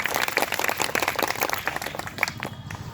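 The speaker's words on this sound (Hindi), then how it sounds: "उनके लिए जोरदार तालियां आप बजा दें" A crowd at a Labour Day political gathering claps loudly for a visiting senior Rashtriya Janata Dal leader, dense close applause that thins out and fades near the end.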